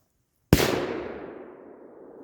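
A single Crazy Robots legal firecracker bursts with a sharp loud bang, its crackling echo decaying over the next two seconds after a brief silence.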